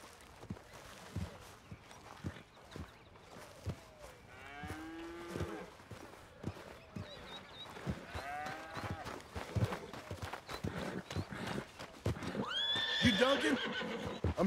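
Horses whinny and hooves clop in Red Dead Redemption 2, with several neighs and a lowing cow amid steady hoof and ranch noise, plus in-game voices talking, growing louder toward the end.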